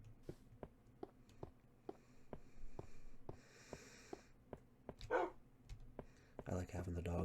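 Minecraft Beta 1.7.3 gameplay with regular soft clicking and a dog's short barks and snorts, quiet and close, among rustling in-game sounds.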